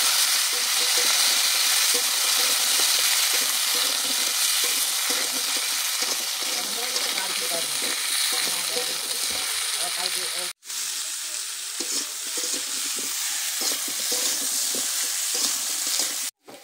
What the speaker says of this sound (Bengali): মানকচু আর আলু দিয়ে মানকচু আলুটাকে ভালো করে ভেজে নিতে হবে